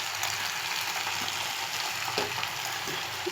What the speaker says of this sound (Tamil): கீரையை போட்டு நல்லா வதக்க போகிறோம்.